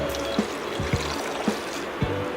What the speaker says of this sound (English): I'm going to add a cup of filtered water to get a smooth